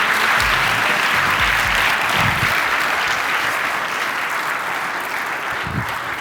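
An audience claps at a church follies show, steady, dense applause from a crowd that stays strong and slowly eases toward the end.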